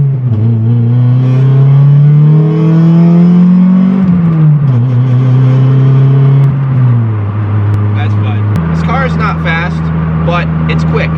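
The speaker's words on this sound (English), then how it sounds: "It sounds kind of cool from the interior, even though the exhaust is still way too loud." Heard from inside a Mitsubishi Eclipse, a loud engine drones and rises in pitch as it accelerates through gears, with a booming, raspy exhaust throughout.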